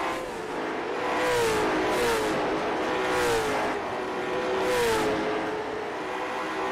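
Late model stock cars racing in the iRacing video game at Las Vegas, a continuous loud engine drone with rising and falling pitch sweeps as cars pass, no voices.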